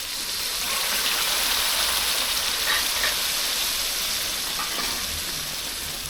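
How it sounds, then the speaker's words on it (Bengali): A steady, close hiss of water meeting a hot pan of sautéing tilapia with spices, a broad even steaming rush that holds throughout without any talking. "এখন একটু পানি দিয়ে দিচ্ছি কষানোর জন্য"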